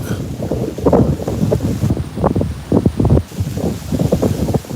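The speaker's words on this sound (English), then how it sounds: "It's windy down here." Gusty wind pounds the microphone in uneven bursts, loud low rumbling that rises and drops repeatedly.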